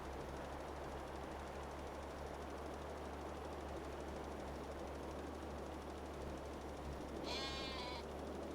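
A sheep on a Western Australian farm gives one short bleat near the end, rising out of a constant wash of outdoor background noise.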